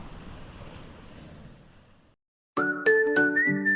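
Ocean waves wash as a soft hissing surf that fades to silence, then a bright synthetic electronic jingle starts abruptly and plays to the end. No one speaks.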